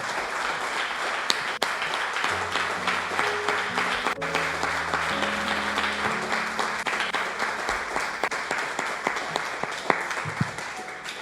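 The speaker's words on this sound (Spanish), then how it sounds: "Denle un fuerte aplauso al Señor" A church congregation bursts into loud, sustained applause with dense clapping throughout, while organ or keyboard chords ring underneath.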